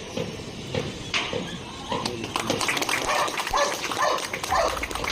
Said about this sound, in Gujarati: જીગર નામનો ડોગ ભાવનગર જિલ્લા ડોગ સ્ક્વોડ ખાતેથી આજે સેવાનિવૃત્ત થયેલ છે.